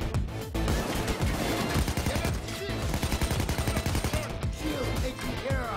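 Rapid bursts of automatic gunfire during a safehouse raid in the Payday 2 heist game, dense overlapping shots crackling loudly with brief pauses, under occasional speech.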